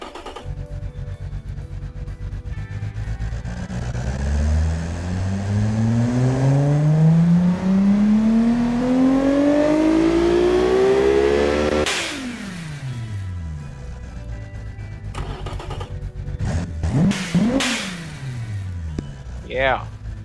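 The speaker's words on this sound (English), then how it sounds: "Now that is a V6. Wow, let's hear it." A tuned V6 car engine revs up hard, pitch climbing steadily to a loud peak, then cuts off and follows with several sharp, shorter blips of the throttle.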